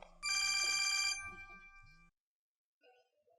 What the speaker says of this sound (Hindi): ये किस टाइम पे फोन आ गया?